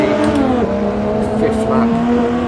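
Engines of vintage race cars from 1929, including a Bugatti, drone and rev continuously while battling wheel to wheel around the Monaco street circuit in Assetto Corsa, steady and loud with a speaking voice over the top.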